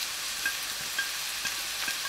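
Garlic and celery sizzle and fry in a pan while being stirred, a steady bright crackle with soft periodic scraping strokes, close and alone.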